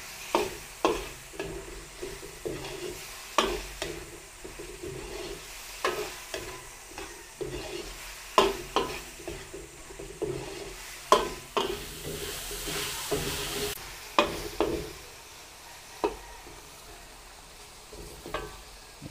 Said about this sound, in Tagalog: Sangkutsahin po uli natin hanggang sa maluto ng konti yung atay,